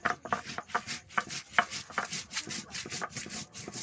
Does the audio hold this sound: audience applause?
no